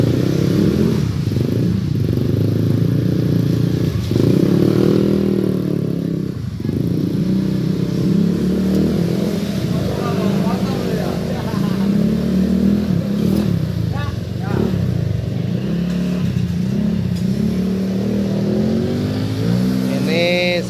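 A Yamaha Vega R motorcycle fitted with a PGA exhaust revs repeatedly at close range, with loud, raspy engine bursts rising and falling in uneven pulses. Someone talks over the engine throughout.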